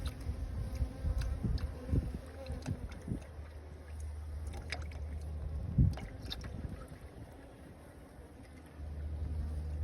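Honey bees buzz around an open hive with a frame feeder on a February day, a steady low hum with scattered louder passes of individual bees close by, no voices.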